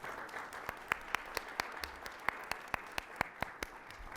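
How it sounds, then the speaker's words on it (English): At a small business forum, a thin audience claps for partners and sponsors, a few distinct, sharp hand claps in loose rhythm over a low room murmur rather than a full ovation. "I'd love to give all of our partners and sponsors a round of applause."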